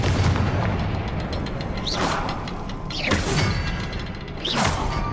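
Confringo fire spells cast in Hogwarts Legacy, three loud whooshing blasts that burst into booming explosions about a second apart over a dense rumbling game backdrop.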